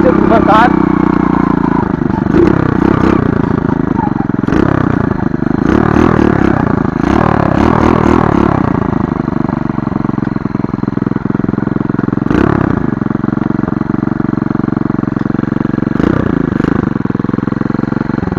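A custom BMX-style 125cc motorcycle runs on a dirt road in Portugal, its engine holding a steady drone with a few revving surges and rattling clatter, while someone talks over it.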